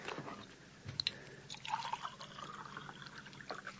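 Water poured into a glass for taking pills, a staged radio-drama effect: a short liquid trickle and a few clinking drips, fairly faint over a quiet room background with no talk.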